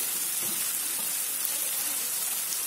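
Capsicum and carrot hit a hot frying pan for Maggi noodles, giving a steady, even sizzle throughout with no talking.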